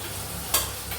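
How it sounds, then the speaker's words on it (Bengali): Fish frying crisp in a pan, a steady sizzle with a brief louder burst of spatter midway, close and alone with no talk. "তাও একটু মাছটা একটু কড়া করে ভেজে দিলাম"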